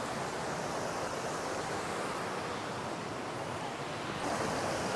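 The Cascada del Indio waterfall in Valle del Lunarejo rushes with a steady, dense roar, heard up close and loud throughout with no talk.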